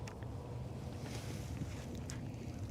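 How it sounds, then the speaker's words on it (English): A double-engine boat runs out on the water, a continuous low rumbling drone mixed with wind buffeting the microphone, steady and moderately distant with no talking. "Double engine boat."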